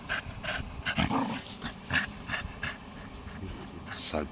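A dog pants and whimpers in short, uneven bursts close by, with soft breathy huffs and a few higher whines over rustling, while a person talks intermittently.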